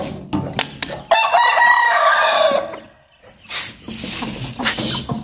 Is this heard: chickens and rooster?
yes